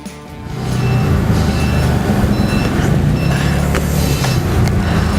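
A truck is unloaded while its reversing alarm beeps in short, evenly spaced pulses over a loud, steady diesel engine rumble nearby, with faint clanks of the unloading.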